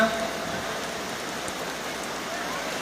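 Steady rain hisses down in a dense, even patter, close and continuous, with faint voices in the background.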